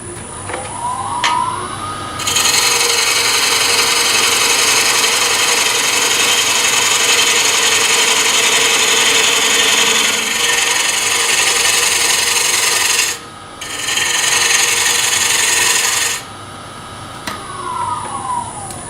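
Bowl gouge cutting spinning wood on a lathe to reduce the piece to chuck size, a steady loud rasping hiss that runs continuously, breaks off briefly, resumes, then stops.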